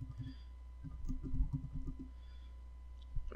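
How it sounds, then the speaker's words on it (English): Quiet computer keyboard typing close to the microphone, a loose run of soft clicks and taps clustered in the middle, with a low steady hum underneath. "I'm typing like over my mic"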